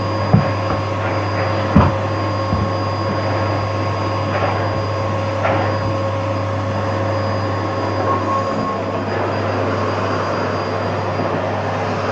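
A Henry Hoover vacuum cleaner runs in a loud, constant motor drone with a steady low hum and a faint whine, near and unbroken apart from a few soft knocks.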